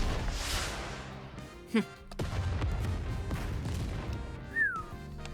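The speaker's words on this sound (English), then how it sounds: "As an enormous explosion rings out, Pribby clings to me" A heavy toy gun fires in the video game Nikke, one sharp loud blast near the two-second mark followed by a rumbling tail over a busy game background, with a brief rising tone later.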